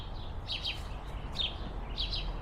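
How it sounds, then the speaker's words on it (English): Small birds chirp in short, high bright bursts outside a cafe patio, a few tweets clustered at intervals over steady low background hum, moderately near and fairly faint, with no talking. "There's birds chirping."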